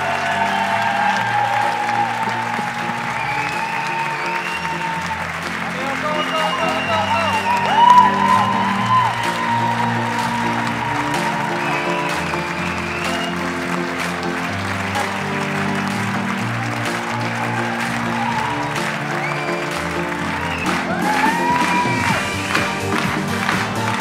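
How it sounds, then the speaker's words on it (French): Sustained crowd applause fills a Lyon evening event as entrepreneurs come onto the stage, dense clapping with scattered whoops and cheers, steady throughout and swelling briefly near the end. "je vous demande un tonnerre d'applaudissements pour les accueillir sur scène"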